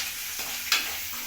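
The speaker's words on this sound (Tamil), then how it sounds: "இதெல்லாம் வத்தல், கருவேப்பிலை எல்லாம் போட்டு வதக்கிங்க. வெங்காயம் போடுங்க." Dried vegetables, curry leaves and onion sautéing in a pan, giving a brief close sizzle with one sharp stirring scrape partway through.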